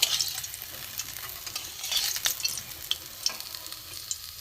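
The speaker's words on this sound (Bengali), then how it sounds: "লাল করে মাছ ভাজা হয়ে গেছে।" Pieces of rohu fish fry in hot oil in a pan, giving a steady close sizzle with scattered sharp crackles and spits throughout and no voices.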